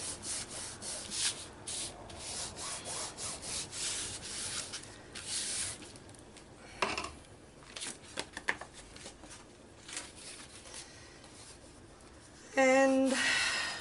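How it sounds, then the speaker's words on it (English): StikA-Tex is rubbed and pressed down onto a journal cover, giving close, dry scratchy strokes that come in bursts and then fade. A short louder scrape follows near the end, and there is no talk. "and give it a good press down"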